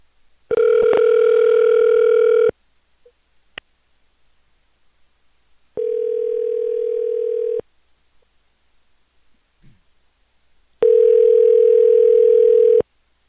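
A telephone line tone plays while a call is being placed, sounding in three steady, loud bursts of about two seconds each with quiet gaps between them.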